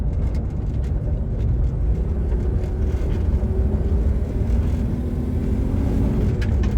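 Dodge Stealth engine pulling under acceleration on a test drive, a loud continuous in-cabin drone with a slowly rising tone and road roar.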